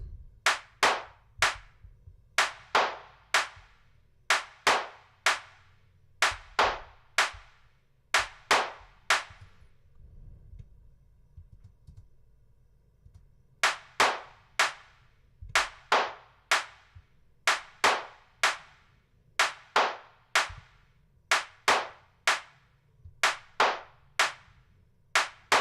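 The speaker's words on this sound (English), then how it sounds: "Let's start with the clap." Sharp electronic clap drum sample for a techno track, struck in a steady repeating rhythm, loud and dry, with a short break midway before the pattern resumes.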